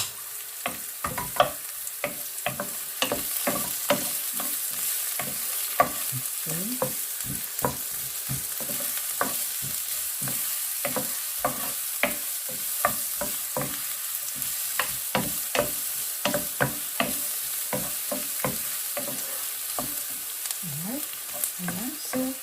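Garlic stirred and sizzling in a frying pan while sautéing green beans with pork belly, giving a steady frying hiss broken by many sharp scraping strokes of a utensil against the pan, close and fairly loud throughout.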